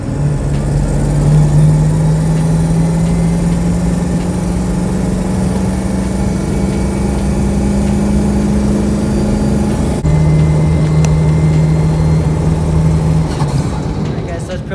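A 7.3 Powerstroke diesel truck driving under high turbo boost, its steady loud engine drone rising slowly in pitch before a brief dip, heard continuously from inside the cab.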